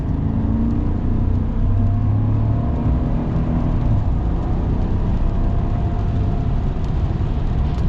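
A lifted Chevy Silverado 1500 RST accelerates from inside the cab, a steady loud engine and road rumble holding through the whole stretch with a slight rise early on, no talk.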